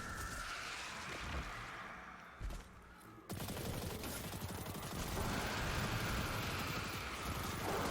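Gunfire and small explosions in the video game Destiny 2, where shots set off Warmind cells, heard as a dense, crackling burst of rapid shots and blasts that swells after a short lull and keeps roaring steadily to the end.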